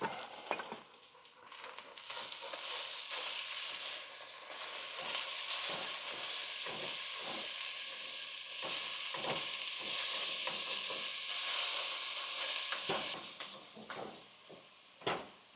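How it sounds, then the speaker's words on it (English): Ground meat sizzles and fries in a pan on a stovetop for taco soup, a steady close hiss broken by repeated scraping stirs, with no talking. "we'll move over to the stove top and check on our ground meat and get all this going"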